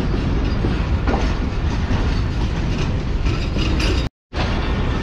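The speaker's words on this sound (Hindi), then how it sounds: "फैसलाबाद को ट्रेन ने अलविदा कह दिया है।" The Karakoram Express pulls out of Faisalabad station in Pakistan with a loud, continuous rumble and rhythmic clickety-clack of wheels on rail, close by, broken by one brief dropout near the end.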